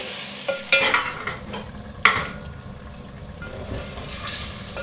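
Dry spices for chicken biryani, including red chili, amchur powder and dried coriander, are stirred in a pan, giving a soft hiss and sizzle broken by a few sharp scraping clacks from the spoon near the start.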